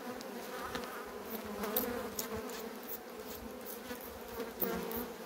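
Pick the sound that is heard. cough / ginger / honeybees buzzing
honeybees buzzing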